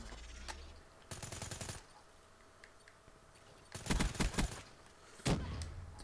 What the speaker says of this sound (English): Come on, that gunfight.